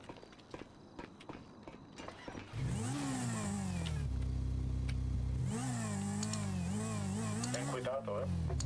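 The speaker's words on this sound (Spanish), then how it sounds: "Pues yo voy a aprovechar y me voy a dar una vuelta con la moto a ver cómo funciona ahora." A motorbike engine revs up and rises in pitch as it pulls away, loud and close, with a steady drone and shifting tones after a couple of seconds of quieter background with voices.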